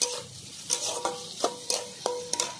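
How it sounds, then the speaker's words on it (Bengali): Onion, chili and garlic frying in a pan, a steady close sizzle punctuated by about five sharp scraping stirs of a spatula at regular intervals, fairly quiet overall. "তার আগে আমি এই পেঁয়াজ, লঙ্কা আর রসুন ভেজে নেব।"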